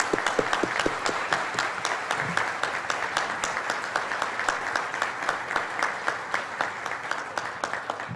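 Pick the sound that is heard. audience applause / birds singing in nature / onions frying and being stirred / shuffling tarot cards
audience applause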